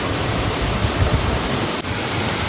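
Small waterfall near Chiklihole Dam in Coorg, a steady close rush of falling water filling the air with constant broadband hiss, no voices.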